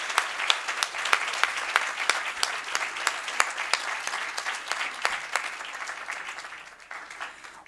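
An audience at a school board meeting applauds Salinas Elementary and its teachers and staff, a dense, steady round of clapping with sharp individual claps standing out, tapering slightly toward the end.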